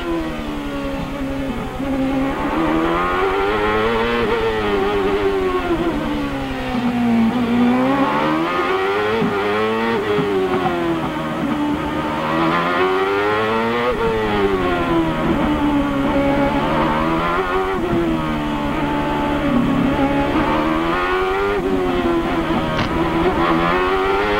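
A CART race car engine screams close by at the 1999 Long Beach Grand Prix, the pitch rising and falling over and over as it revs up, shifts gears and brakes through the street circuit for a long continuous stretch.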